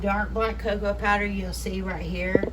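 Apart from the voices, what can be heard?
No distinct noise like a dog, phone or traffic.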